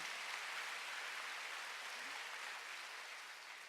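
A church congregation applauds with steady, dense clapping at a fairly low level, fading slightly toward the end.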